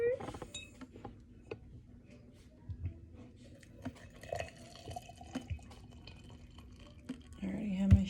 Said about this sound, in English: pour the water.